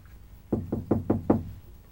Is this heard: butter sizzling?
no